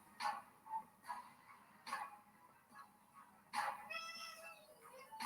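A pet cat meows several times in short, close calls spaced about a second apart, then gives a longer, drawn-out wavering meow near the end, with a little household background noise.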